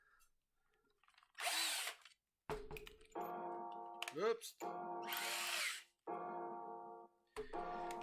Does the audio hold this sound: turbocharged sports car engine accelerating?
no